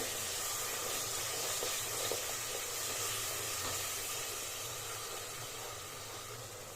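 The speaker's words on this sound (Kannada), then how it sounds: "ಹಸಿ ವಾಸನೆ ಹೋಗೋವರೆಗೂ ಚೆನ್ನಾಗಿ ಫ್ರೈ ಮಾಡ್ಕೊಳ್ಳಿ" Ground masala paste frying in oil for a village-style vegetable pulao, giving a faint, steady hiss and sizzle that holds evenly throughout, with a low hum underneath.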